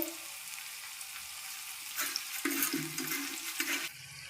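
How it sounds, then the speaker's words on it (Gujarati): Flattened rice (poha) rinsed with water in a home kitchen for batata poha: soft splashing and pouring water, quiet at first, then louder swishing bursts in the second half, with no talking. "એક વાટકો ચોખાના પૌવા લીધા હતા એ સારા પાણીથી બેથી ત્રણ વાર ધોઈ નાખશું"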